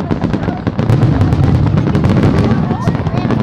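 Dense crackling and booming from a fireworks display, continuous rapid bursts and pops layered over one another, loud and close throughout the few seconds.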